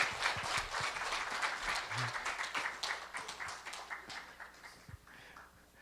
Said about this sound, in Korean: 우리 축하의 박수 해주시기 바랍니다